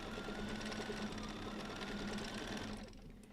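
A sewing machine runs continuously during free motion quilting, its needle chattering in a fast, steady mechanical rhythm up close before slowing and trailing off at the end.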